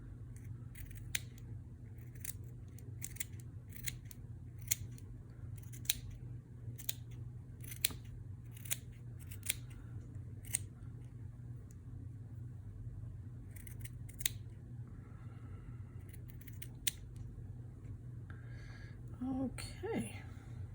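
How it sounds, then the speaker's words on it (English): Scissors snip through blue and lavender textile scraps for a quilted heart collage, with many short, crisp cuts spaced irregularly over a steady low hum, close and fairly quiet. "And I try to cut that on the smaller side."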